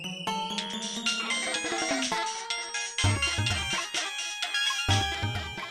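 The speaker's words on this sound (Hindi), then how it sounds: "बबलू, बिरजू पहलवान को फोन लगाओ।" A phone ringtone plays as a call is placed, a bright chiming electronic melody of several repeating phrases, loud and steady, with no talking over it.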